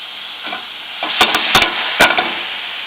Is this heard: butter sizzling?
yes